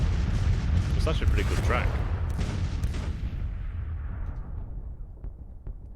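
A heavy artillery bombardment in the Civil War strategy game Grand Tactician rolls on as a deep, continuous rumble of distant booms that slowly fades, while someone talks over it.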